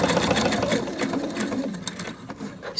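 Sewing machine stitching a lining and handles for a knitted French market bag, a steady close mechanical whir running continuously at an even speed with slight rhythmic ticking.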